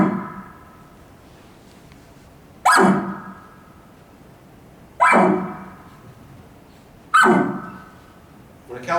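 A person imitates a cow elk's bark with three loud, abrupt, deep bellowing calls, evenly spaced and each fading quickly, with near-quiet between them.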